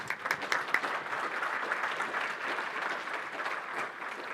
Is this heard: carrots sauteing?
no